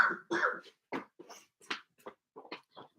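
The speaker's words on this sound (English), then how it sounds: "I don't know why I'm coughing so much this morning." A woman coughing hard in a morning bout, close and dry, with about ten sharp coughs and throat-clears in an uneven run separated by short silences.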